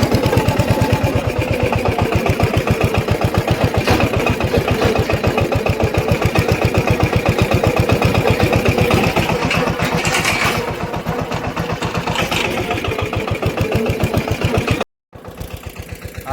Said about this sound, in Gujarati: અહીંયા આપણું ટ્રેક્ટર જો ચીપિયો જોડાવી દીધો છે.